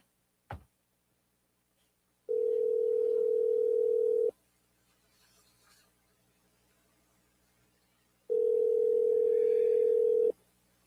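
Two long, steady telephone ringback tones sound about six seconds apart on an outgoing call, each a flat, even buzz lasting two seconds, preceded by a brief click with quiet pauses between.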